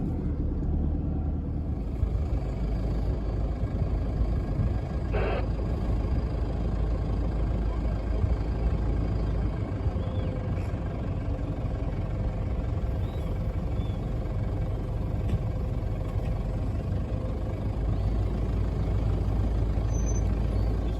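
A four-wheel-drive vehicle pushes through soft sand on a beach track near Double Island Point at Rainbow Beach, producing a loud, constant engine rumble and road roar from inside the cabin for the whole stretch.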